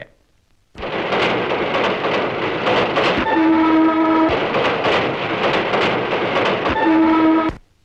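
A train rumbles past loudly with clattering wheels, and a horn sounds twice in long blasts before the noise cuts off.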